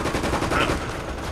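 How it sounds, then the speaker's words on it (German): Gunfire in Resident Evil: Operation Raccoon City, shot from behind cover: a dense, continuous burst of rapid shots that stays loud and steady for the whole moment, with no talking. "aus der Deckung zu schießen ist auf jeden Fall richtige Munitionsverschwendung"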